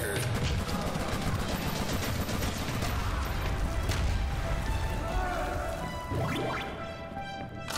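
Gunfire and explosive weapon blasts in the video game Huntdown, rapid crackling shots and impacts running continuously, with speech mixed in, easing off toward the end.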